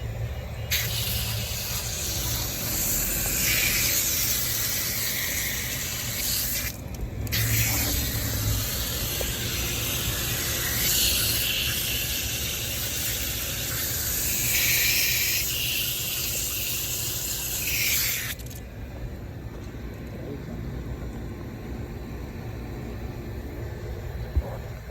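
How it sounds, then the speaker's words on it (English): A steady, loud hiss of water spraying onto a Carrier HVAC condenser coil continues for long stretches, pausing briefly once, then cutting off to a quieter background hum. "start spraying."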